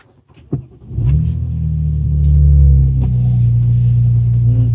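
A BMW 335i with the N54 engine, just fitted with a replacement engine computer after an internal DME fault, cranks and fires up close by, settling into a steady, deep idle and briefly revving midway before easing back.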